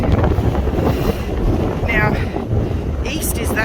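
Strong gusting wind roars across the microphone at a Blue Mountains lookout on Greens Road, Warrimoo, above Glenbrook Creek, a loud, steady rumbling buffet with a few brief higher swishes.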